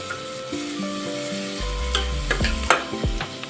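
Finely chopped onion sautés in butter for a chicken soup. It sizzles steadily while a spoon scrapes and knocks several times, louder toward the end, with no talking.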